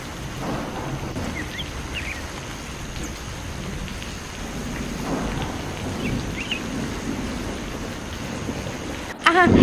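Steady rain pours through a cartoon scene about a crow farmer caught in a downpour, with a low rumble of thunder underneath and a louder burst near the end.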